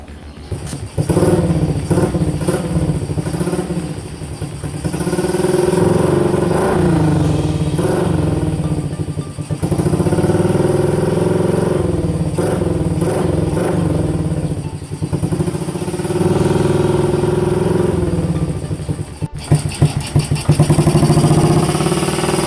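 A Suzuki Shogun 125RR motorcycle engine fitted with a dB killer exhaust runs close by, loud and rough, rising and falling through several revs with rattly clatter and a brief sharp tick near the end.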